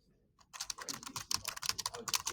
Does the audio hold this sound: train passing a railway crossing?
no